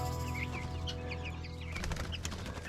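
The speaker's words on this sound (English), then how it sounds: "Just coming to check on the chickens here." Chickens on a small farm cluck and chirp in short, scattered calls over a low steady hum, with a brief flurry of wing flapping near the end, moderately close and without talk.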